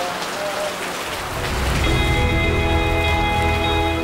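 Steady rain pours down for a rain therapy session, a dense, continuous hiss that swells slightly halfway through as a soft sustained tone rises beneath it.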